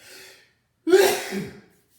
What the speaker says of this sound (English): Excuse me, I'm going to sneeze again.